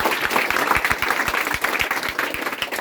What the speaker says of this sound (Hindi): चलिए इनके लिए ताली बजाइए।